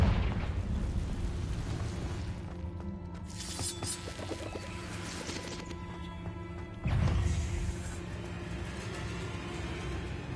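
A Confringo explosive spell blast in Hogwarts Legacy, a sudden booming crash that erupts about two-thirds of the way in over a steady rumble of game ambience and scattered magical effects.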